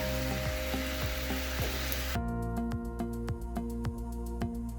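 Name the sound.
chicken frying in pan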